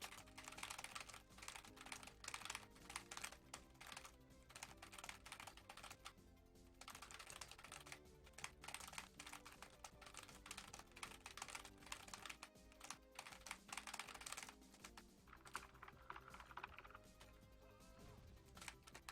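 Fast, steady typing on a Razer computer keyboard fills the scene with close, dense clicking keystrokes in rapid bursts, broken by a few brief pauses.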